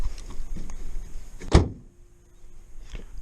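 A Citroën ZX bonnet slammed shut once, a single sharp close bang in the middle, with faint handling clicks before and a short ring-off after.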